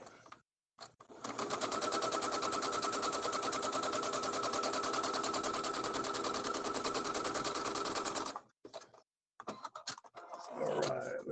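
A sewing machine stitches a large 60 by 60 quilt in one continuous rapid run of about seven seconds, its fast needle chatter steady and close, with short handling noises before and after.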